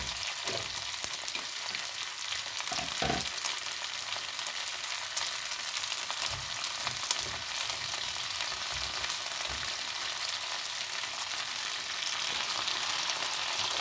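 Frozen shrimp fry in hot oil with a constant bright sizzle and crackle, punctuated by a few low thumps and stirring knocks, close up with no talking.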